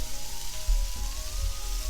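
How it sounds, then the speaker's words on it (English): Onions sizzling in a hot pan for lomo saltado, a steady close frying hiss with faint crackles and a low rumble underneath, no voices. "You hear the sizzle already, so that means that's a good thing."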